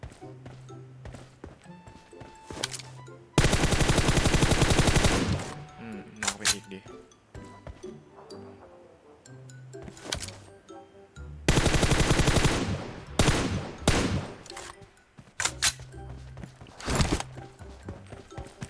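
Gunfire in the video game PUBG Mobile: two long, loud bursts of rapid automatic fire, with scattered single shots and clinks between them, heard under a talking voice.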